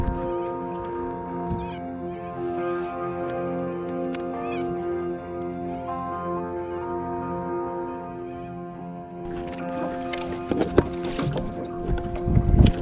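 The electric motor on a fishing boat out for Murray cod gives a steady, whining hum with layered tones, continuous and fairly quiet, turning rougher and noisier near the end.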